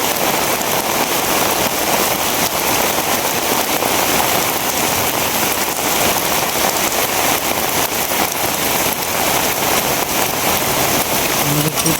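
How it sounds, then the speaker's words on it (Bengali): Heavy rain pours down steadily at a village home, a dense, loud, even hiss of drops on surfaces lasting the whole stretch without a break. "বৃষ্টি প্রচুর পরিমাণে বৃষ্টি শুরু হয়েছে"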